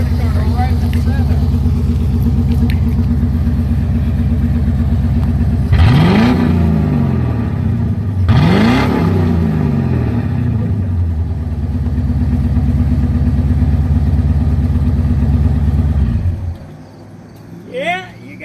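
A 1985 Corvette engine running with no mufflers idles with a loud, deep, steady rumble, rising in two brief revs, then cuts off abruptly near the end; voices are faintly heard at the close.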